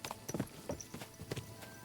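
Horse hooves clip-clop at a steady walking pace in the medieval Kingdom Come Deliverance 2 video game, soft and fairly distant, with no talk over them.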